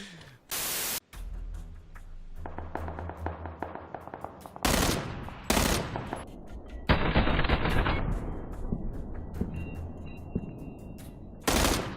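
Gunfire in the battle royale video game PUBG: bursts of automatic rifle fire and sharp single shots, some loud and close, others distant, scattered across the stretch with static-like noise between.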